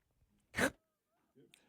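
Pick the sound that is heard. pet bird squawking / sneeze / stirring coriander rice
sneeze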